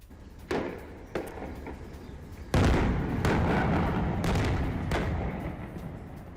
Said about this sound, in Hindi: इस्लामिक जिहाद के ठिकानों पर भारी बमबारी।